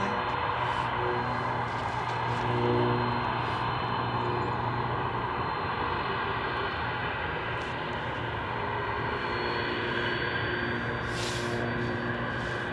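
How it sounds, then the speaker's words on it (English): An Alaska Airlines Boeing 737-890 in Boeing House exclusive livery passes at Anchorage, its jet roar a steady, fairly loud wash that holds evenly throughout with no talk. "Alaska 737-890 Boeing House exclusive livery"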